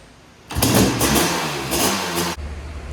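A Honda CR500 engine on a trike fires up with no throttle and barks into loud, sustained revving for about two seconds, rising and falling before dropping back to a lower idle.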